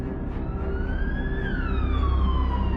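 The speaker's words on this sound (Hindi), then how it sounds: "एम्बुलेंस सिटी हॉस्पिटल में पहुंची।" Ambulance siren wailing in a steady rising and falling sweep over low rumbling traffic noise, carrying on continuously and growing slightly louder toward the end.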